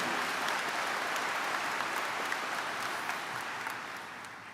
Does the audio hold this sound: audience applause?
yes